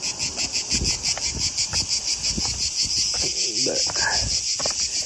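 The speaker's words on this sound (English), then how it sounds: "Listen to them crazy ass crickets" Crickets chirp in a dense, steady pulsing chorus at an outdoor archaeological site near the Sanctuary of Athena in Delphi, Greece, loud and continuous throughout, with faint low rustles and footstep-like thumps beneath.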